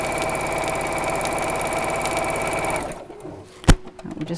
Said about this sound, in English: Okay, so again, just sewing in straight lines.